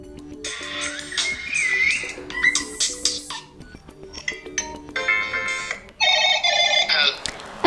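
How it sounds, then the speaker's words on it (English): Several short ringtone melodies from a Motorola Razr 5G play one after another, each a bright, chiming electronic tune, changing abruptly between snippets. "If you want to check how the particular ringtone sounds,"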